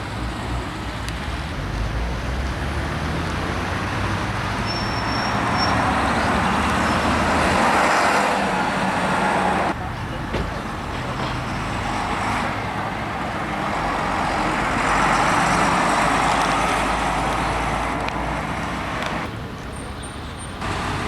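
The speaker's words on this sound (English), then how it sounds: "We even have our own Hitchin bus, which shuttles to and fro between Letchworth and Hitchin." A local single-decker bus on a town road in Letchworth, shuttling between Letchworth and Hitchin, rumbles steadily past amid broad road traffic, its engine noise rising and easing in two swells.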